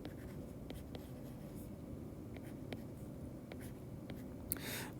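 Marker or chalk writing on a board during a physics lecture on vectors, faint tapping strokes and scratches over a steady room hum, with a brief squeak near the end.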